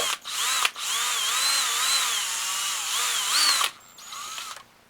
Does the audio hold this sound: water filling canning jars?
no